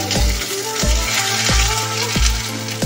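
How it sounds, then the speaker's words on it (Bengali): Tempering spices and ginger paste hit hot oil for a Bengali potol dolma. A steady sizzle runs under regular low thumps that repeat about every half second, loud and close. "ফোড়ন দিলাম, আদা বাটাটা দিয়ে দিচ্ছি"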